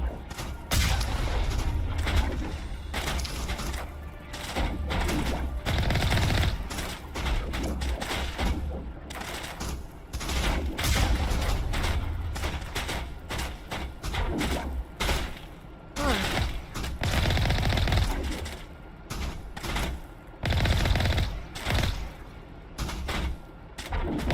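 Sniper gunfire and combat in the Mass Effect video game, with dense, repeated booming shots and impacts crackling almost nonstop over a loud, rumbling battle backdrop.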